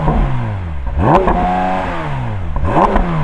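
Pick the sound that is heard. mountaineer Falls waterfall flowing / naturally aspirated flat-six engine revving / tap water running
naturally aspirated flat-six engine revving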